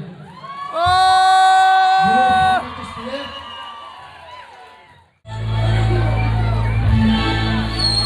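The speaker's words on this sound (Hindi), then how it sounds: "तो लीजिए एक बार जोरदार तालियां आप इनके लिए बजाएं।" Crowd at a live show whooping and cheering loudly, with a sustained shout and cheers, then a fresh burst of loud crowd noise and applause near the end.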